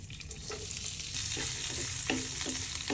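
Onions and curry leaves sizzle in hot oil in a pan for chicken sukka, a steady close frying hiss with occasional stirring scrapes and clinks, no voices.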